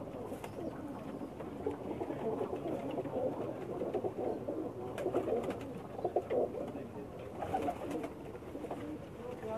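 A prized pigeon on a rooftop loft in Pakistan coos softly in low, rolling phrases against a dense background of flock noise, with some faint voices nearby.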